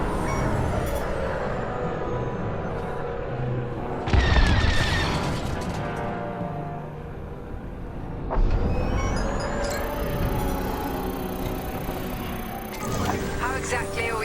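Two heavy booming blasts ring out in Star Wars: Squadrons as a core explodes, each a loud low burst with rumbling debris, over steady engine hum, space-battle noise and spoken voices.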